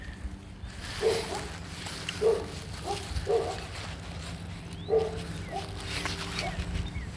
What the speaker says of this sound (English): Doggies, see the doggies?